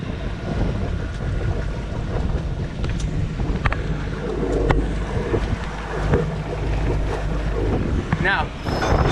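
Sailboat heading across the wind on open water, with steady broadband wind and water rush against the hull, constant and close throughout, a faint voice now and then underneath.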